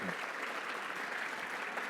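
A crowd at a city address gives applause for the city councillors, a steady, even patter of many hands heard from some distance, moderately quiet and unbroken throughout.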